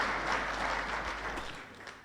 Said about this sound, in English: Another round of applause for Ambassador Macharia.